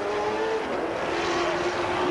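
Satoru Nakajima's 1989 Formula 1 car racing in heavy rain along a long straight, its engine holding a loud, sustained high whine as it throws up spray, with commentators talking over it.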